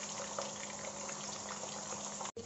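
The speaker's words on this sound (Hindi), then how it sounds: "चिकन को हम मीडियम टू हाई फ्लेम पर फ्राई करेंगे क्योंकि चिकन अपना काफ़ी पानी छोड़ता है" Chicken pieces frying in a pan over medium to high flame, releasing water, give a steady dense sizzle with faint pops, close and continuous, cutting off briefly near the end.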